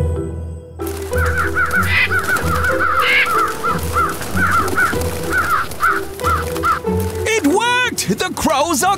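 Cartoon crows caw repeatedly over a strawberry patch in a PAW Patrol toy play scene, a steady series of harsh calls against background music, ending in a burst of louder sounds.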